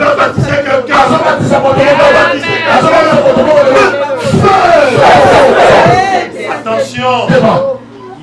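A church congregation acclaiming and cheering, with loud massed voices shouting and whooping in waves close by, rising and falling over several seconds before fading near the end.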